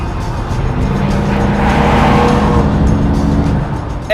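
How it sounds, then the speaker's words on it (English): A V12 car engine roars steadily with a deep, rumbling exhaust note, building in intensity and sustained loudly throughout without any talking. "you put a little exhaust on it, and then you also get to hear that"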